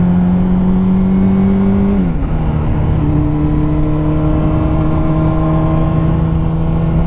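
A Harley-Davidson cruiser motorcycle rides past, its steady loud engine drone holding close and continuous with a brief pitch dip as it goes by.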